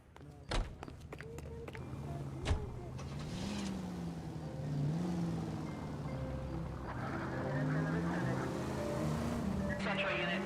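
A car engine hums steadily in L.A. Noire, a low droning motor that rises and shifts pitch as the vehicle drives, with a couple of sharp knocks early on and people talking over it.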